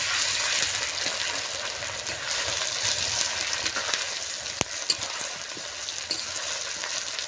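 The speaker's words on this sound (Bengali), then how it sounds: "মশলাটাকে আমি খুব ভালো করে কষিয়ে নেব।" Ground spice paste of ginger, cumin, dried chilli and garam masala fries in a pan for a village-style handi chicken biryani, a steady close sizzle with light stirring scrapes and one sharp tap.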